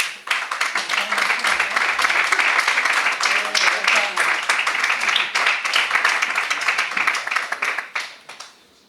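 A crowd applauds a medal winner at a popular-race circuit awards ceremony, dense, lively clapping holding steady for several seconds before thinning out and fading at the end.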